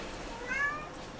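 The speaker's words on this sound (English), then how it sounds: "That's my kitty." A domestic house cat gives a single short, faint meow against a steady background hiss.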